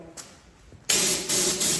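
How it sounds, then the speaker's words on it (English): An aerosol can sprays in a few short bursts on an abandoned Land Rover Discovery 2, a sharp close hiss that cuts in abruptly, pauses briefly and resumes, preceded by a quiet stretch with faint handling sounds. "It's too thick, it'll not spray on."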